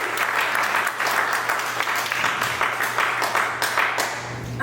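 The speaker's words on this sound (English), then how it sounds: "make some noise for yourself" An audience at a comedy show applauds and cheers, a steady, dense wash of many hands clapping that stays loud throughout, with faint crowd voices mixed in.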